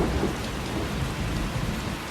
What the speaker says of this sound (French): Normalement, il y a la pluie, là.